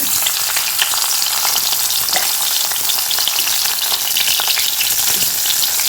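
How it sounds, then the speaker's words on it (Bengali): Three pieces of fish fry in a little oil in a pan, giving a loud, dense, steady crackling sizzle with fine spattering pops and no voices. "আর এই তিন পিস মাছ আর একবার একটুখানি তেলের উপরে একটু ভাজা করে নেব"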